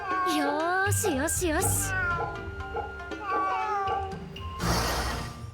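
A cat in Fate/Samurai Remnant gives a run of wavering, rising-and-falling meows, close and prominent, with a burst of noisy rustle near the end and a voice talking underneath.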